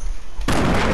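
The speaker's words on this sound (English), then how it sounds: "Did you hear that explosion?" A sudden loud blast from an explosion in the game Fortnite cuts in midway after quiet background, a sharp broadband boom that stays loud to the end.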